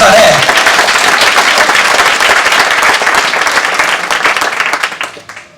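A church congregation applauds Jesus with loud, dense clapping that holds steady for several seconds and then tapers away near the end.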